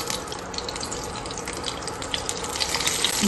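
Stuffed brinjals sizzle and crackle in hot oil in a pan, a dense, continuous frying hiss that grows slightly louder toward the end.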